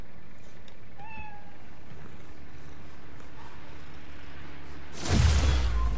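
A cat meows once, short and fairly soft, in the video game Spider-Man Miles Morales. Quiet game ambience surrounds it, and a loud rushing whoosh follows a few seconds later.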